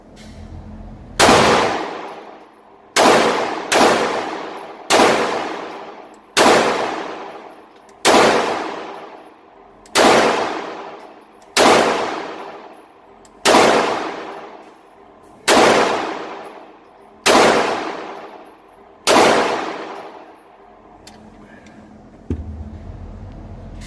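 A Walther Creed 9mm pistol fires about a dozen loud, evenly spaced shots at a steady slow pace. Each report rings out and decays before the next, and the string ends after a short pause.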